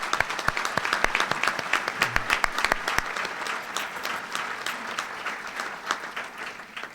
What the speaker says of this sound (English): Let's give all these people some applause.